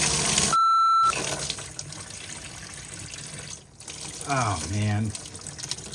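Water from a radiator drains into a bucket under a sink-area fitting during a replacement job, a splashing, trickling flow under a brief beep and a man's short exclamation, near and moderately loud.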